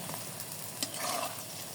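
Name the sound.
potato and cornflour balls deep frying in oil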